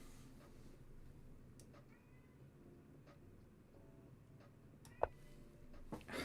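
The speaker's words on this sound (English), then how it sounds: "I gotta let this cat in my room." A cat meows several times, faint and somewhat distant, over quiet room background noise during a live chess stream.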